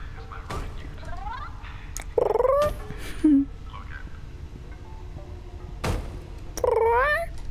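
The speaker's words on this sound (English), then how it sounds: "Kind of sounds like a cat." Cat meowing in the horror video game The Baby in Yellow, several short rising-falling calls at moderate volume, the meows coming in separate bursts over a faint background.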